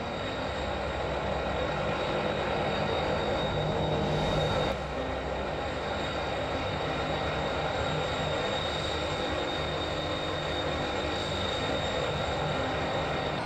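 In the BeamNG Drive video game, a FedEx MD-11 cargo jet takes off from Guangzhou, with a loud, steady engine roar that holds throughout and one brief surge partway in.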